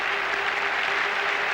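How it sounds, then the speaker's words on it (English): Sustained applause from a large cricket crowd at a Test match at Old Trafford, Manchester, a steady wash of clapping that stays even throughout. "He acknowledges the applause of all sections of this crowd."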